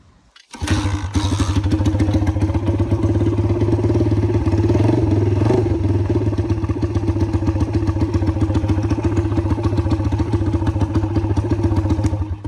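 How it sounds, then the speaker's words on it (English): A dirt bike engine catches after a brief quiet moment, then settles into a loud, steady, close-up idle with a rapid chugging putter that continues evenly to the end. "All right, so I'm gonna start this up now."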